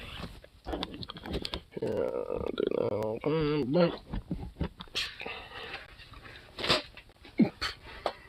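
A dog whimpers and whines in a series of high, wavering cries up close, mixed with soft clicking and a person speaking quietly nearby.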